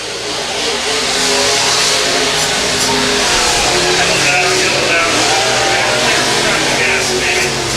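USRA B-Mod race cars roaring around a dirt oval at I-35 Speedway during a heat race, a loud continuous wash of engines with a commentator's voice over it and crowd-like background noise.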